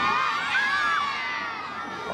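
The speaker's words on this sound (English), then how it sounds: "that's when we're going to have the portion where you get to scream as loud as you can" A crowd of students at a school Veterans Day assembly screams loudly and steadily in a large hall, a dense sustained roar with children's shrieks and whoops.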